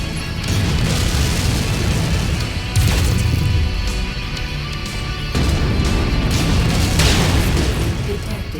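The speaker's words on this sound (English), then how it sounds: "Ammo explosion detected." Heavy booming ammo explosions and battle noise in the MechWarrior 5: Mercenaries video game, a loud continuous rumble with several sharp blasts, under intermittent game voice callouts.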